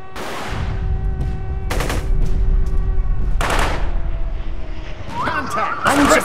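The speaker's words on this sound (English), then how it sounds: "Suppressive fire!" Bursts of automatic gunfire in the 2005 urban combat game Close Combat First to Fight, several loud clustered volleys over constant battle noise, with voices shouting orders between shots.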